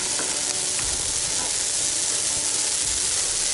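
A Christmas tree burns in an outdoor campfire, giving a dense, steady crackling hiss with scattered sharp pops, close and loud throughout with no voices.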